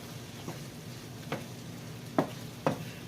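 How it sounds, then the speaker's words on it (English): Peppers, onions and garlic sauté in butter in a pan with a soft, constant sizzle, broken by four light stirring scrapes spaced unevenly. "got my peppers, my onions, garlic, all that in here, sauteing away within that butter"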